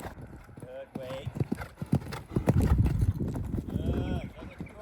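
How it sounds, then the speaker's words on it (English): Hooves of a ridden horse clip-clop in a barn setting, a close, uneven run of thuds growing busier, with people talking and calling over it. "Santana is in the horse walker here, and Coco's now riding Sia quickly."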